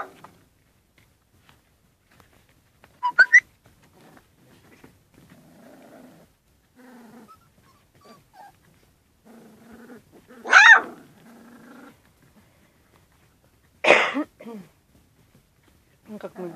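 A young puppy growls in low, soft rumbling bursts, quiet and close, between louder stretches of people talking.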